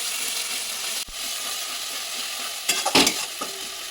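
Onion and garlic frying in a pan, a constant loud hissing sizzle with a few sharper crackles and stirring knocks near the end.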